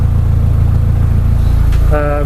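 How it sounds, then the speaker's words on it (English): A Volkswagen Golf MK2 engine idles loudly and steadily up close, a constant deep rumble, with a brief higher tonal whine near the end. "So we've just got car idling."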